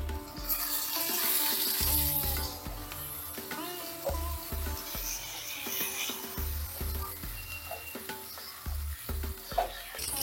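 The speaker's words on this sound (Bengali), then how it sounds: "এই তেলেই আমি এগুলোকে একটু সাঁতলে নেব।" Vegetables sautéing in hot oil with turmeric and salt, a steady close sizzle with intermittent stirring scrapes, alone without talk.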